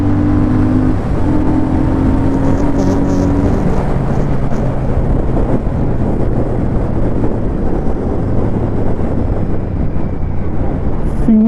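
A 2024 Royal Enfield Shotgun 650 twin bobber motorcycle accelerating through first and second gear, loud engine drone with pitch rising then dropping at shifts, heavy wind buffeting over it throughout.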